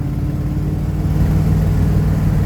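A car fitted with an Edelbrock carburetor pulls away in second gear under gentle throttle, its steady mid-pitched engine drone holding close and loud with a slight rise in strength throughout.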